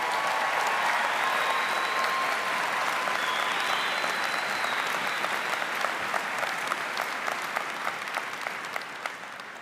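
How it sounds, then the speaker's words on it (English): A large audience at a university commencement ceremony claps steadily, a dense, even wash of applause that holds strong for several seconds before slowly thinning toward the end. "Can we have a historic round of applause for them?"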